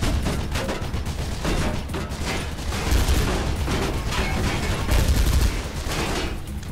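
Player gunfire in the video game Mirror's Edge: a dense, loud, continuous run of rapid shots filling the whole stretch, with no talk over it.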